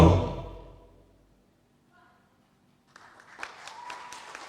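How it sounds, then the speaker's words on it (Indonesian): Applause at a national pantun poetry declaration event in Pekanbaru, Riau, entering after a quiet pause as a modest burst of clapping that continues to the end, following a fading loud voice at the start. "Ada tepuk tangan ternyata Bang."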